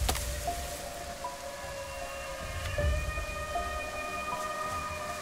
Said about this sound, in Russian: Да задолбала эта сирена.